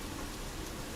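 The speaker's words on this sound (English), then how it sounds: "It's pouring down rain outside." Heavy rain pouring steadily, a dense unbroken hiss of drops with no other sounds.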